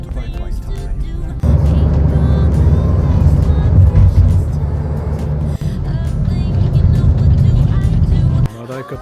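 Motorcycles and traffic rumble through a traditional market on Java, Indonesia. A loud, continuous engine drone runs close by with passing vehicles, and there is a brief break midway.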